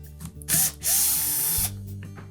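Power driver running on a Whirlpool washer, removing the quarter-inch hex head screws that hold the control panel to the main top: two short loud whirring bursts, the second longer, each winding down to a stop.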